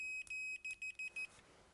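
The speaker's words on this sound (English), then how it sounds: "As indicated by the buzzer, the leads are contiguous." A continuity tester buzzer on the leads of a multimeter, checked while testing a towel warmer's fuse, gives a run of short, clear electronic beeps, five or six quick pulses in an uneven rhythm, close and fairly quiet, with no talking.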